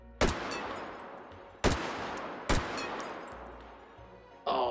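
Four sharp gunshots ring out in a virtual-reality shooting game, each followed by a short echoing decay. They come at uneven intervals over a few seconds, moderately loud against a quiet background, with no talking.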